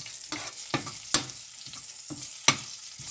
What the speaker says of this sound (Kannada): ಮೆಣಸಿನ್ಕಾಯಿ ಫ್ರೈ ಆಗೋದು,